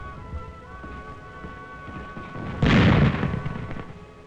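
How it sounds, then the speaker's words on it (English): Mortar and rifle fire from a wartime hillside advance against Japanese positions, heard as a steady rumbling din of distant battle with a sudden loud burst of blasts about midway that fades back into continuous crackling fire. "Mortar and rifle fire covered the gradual advance up the hill"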